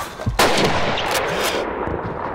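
A single sharp sniper rifle shot in the video game Call of Duty 2, fired in a Stalingrad city battle, loud and close, followed by a lingering echoing tail and low rumbling background battle noise.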